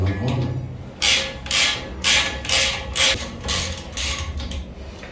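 Bolts being turned with a ratcheting tool while fitting a new tube stack into a Bowman heat exchanger: about six rhythmic bursts of metallic clicking, close and steady, with brief pauses between strokes.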